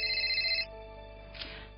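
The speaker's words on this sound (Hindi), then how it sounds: "तुम फोन अटेंड कर लो अपना।" A phone rings with a short electronic ringtone trill that cuts off after a moment, followed by a faint quieter tone, alone in a quiet room.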